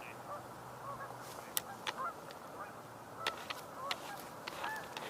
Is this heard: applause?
no